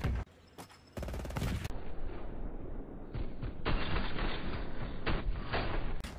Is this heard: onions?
no